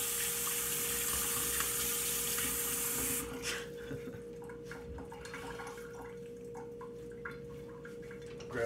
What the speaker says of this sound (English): just rinse my hands here. 20-second wash.